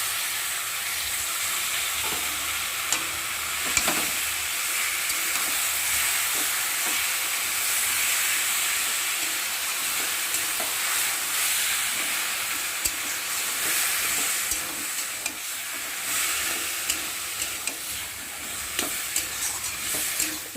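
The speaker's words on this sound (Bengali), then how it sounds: "এই যে জল ঝারিয়ে রাখা কচু শাকটাকে দিয়ে ভালো করে তেলের মধ্যে ভেজে নেব।" Drained taro leaves fry in oil in a kadai while being stirred, making a long, steady hissing sizzle with intermittent scraping and tapping sounds from the stirring; no voices.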